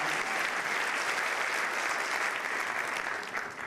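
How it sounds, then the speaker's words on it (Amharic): A church congregation applauds a female gospel singer with steady, dense clapping that stays loud and sustained, tapering slightly at the very end. "አጨብጭቡና ለዘማሪዋ ጌታ ይባረክ።"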